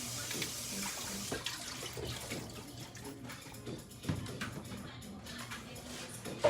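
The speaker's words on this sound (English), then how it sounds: "I got my broccoli in the strainer, so I'll be able to shake it off really good." Broccoli is rinsed and shaken in a strainer under running water, a faint, steady splashing and trickling with small rattling bursts.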